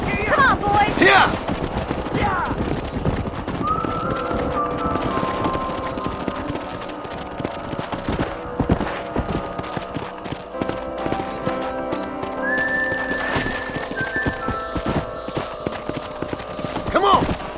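Horses galloping in the video game Red Dead Redemption, with loud, dense hoofbeats clattering under a music score and other game sounds throughout.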